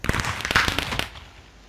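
Fireworks exploding in the Minecraft video game: a quick cluster of sharp, crackling bursts that pop loudly for about a second, then fade into quiet.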